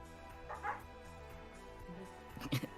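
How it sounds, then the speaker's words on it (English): Dogs bark in the video game UNSTABLE: a couple of short, faint yips and whimpering barks in two brief bursts over a low, steady background drone. "final log is dogs barking."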